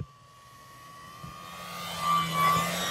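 A Horizon Hobby Timber X V2 RC plane's electric motor hums at low throttle during a landing with full flaps, a steady thin whine that rises slightly toward the end, moderately distant with no talk.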